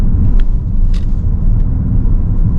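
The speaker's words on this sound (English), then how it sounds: "The 8-speed automatic shifting very smoothly going down the road" A 2026 Dodge Charger R/T sedan with an 8-speed automatic cruises down the road, its engine and tire noise forming a steady, loud low rumble heard from inside the cabin, with no distinct shift points standing out.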